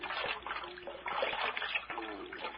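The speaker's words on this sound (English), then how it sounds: "Get a pan of cold water, Jimmy. Bathe his head." Cold water from a pan splashes and sloshes while someone bathes an old man's head, irregular close splatters and trickles continuing throughout.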